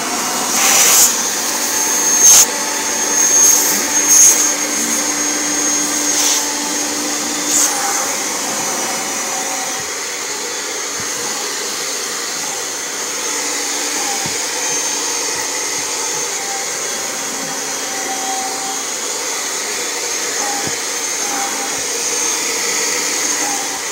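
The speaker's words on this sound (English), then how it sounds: "I'm going to do part of the couch, the back arm of the couch, so you guys can hear it." An 80th anniversary edition Kirby Generation 4 vacuum cleaner with a replaced suction fan drones steadily while cleaning the back arm of a couch, a loud close whine with a few brief bumps and rattles early on.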